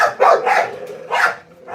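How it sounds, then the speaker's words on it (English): Several dogs at a dog care business bark in short bursts, a few quick yips close together then a louder bark, fairly near with no talking. "thing I love about having so many dogs"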